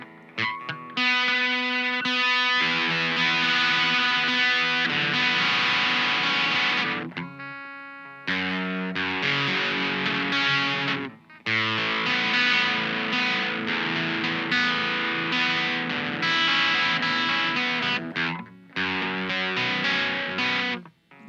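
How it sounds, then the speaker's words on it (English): Distorted electric guitar played in loud, dense strummed chords and riffs, with a few short breaks where the playing stops before resuming. "And also, this is with like distortion."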